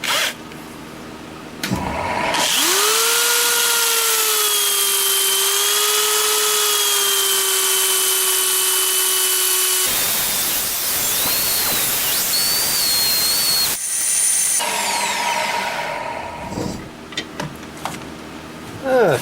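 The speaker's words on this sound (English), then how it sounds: "It's time to go in there" Turned wooden bowl, bark edge kept, being sanded with 80-grit paper on a running lathe: a steady whirring, tonal hum holds loud and close for several seconds, then gives way to a rougher scratchy rasp before winding down.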